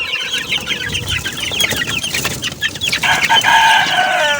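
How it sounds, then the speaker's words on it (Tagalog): Month-old chicks cluck and peep busily while pecking at feed, a dense, close chorus of short chirps and clucks with no talking. "ayan po mga kamanok, ubos na nila yung patuka."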